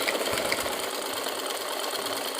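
An electric sewing machine runs a continuous seam along the fitting line of a child's frock bodice, a steady, even mechanical whir held for a couple of seconds without pause.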